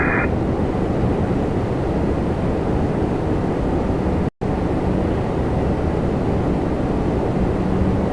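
A Boeing 777-300 airliner at Toronto Pearson airport gives off a steady, loud, broadband roar heard from a distance, a constant wash of jet noise with no voices over it.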